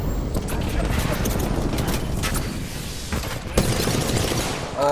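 Loud, dense bursts of gunfire from an Apex Legends firefight rattle on almost without pause, close and sustained, with a few sharper reports near the end and voices talking underneath.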